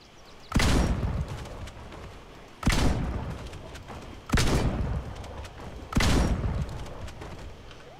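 Four heavy, booming gunshots from the video game Project Zomboid ring out at regular intervals of about 1.7 seconds, each with a long decaying tail over a quiet background.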